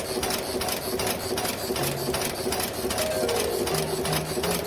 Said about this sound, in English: Step 1. Through the screw heading machine.